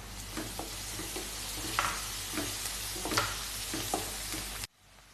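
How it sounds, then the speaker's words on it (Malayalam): Crushed ginger, garlic and green chili sauté in a pan for an egg kabab, a steady sizzle broken by repeated scraping stirs, close and alone before it abruptly cuts off. "ഇതും ഇതേപോലെ തന്നെ നന്നായിട്ടൊന്ന് മിക്സ് ചെയ്തെടുക്കാം."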